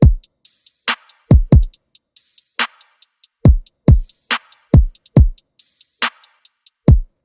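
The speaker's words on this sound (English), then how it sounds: "And this is how the rhythm section sounds like all together." Hip-hop rhythm section of kick, snare, open hat and hi-hat playing together in FL Studio, punchy drum hits with crisp hats in a syncopated groove, loud and dry with no voices.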